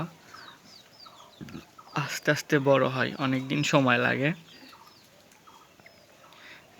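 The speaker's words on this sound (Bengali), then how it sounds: "গ্রামে মুরগি এভাবে ছেড়ে দিয়ে পালন করা হয়" Free-range native village chickens clucking in rhythmic bursts close by, with someone speaking over them partway through.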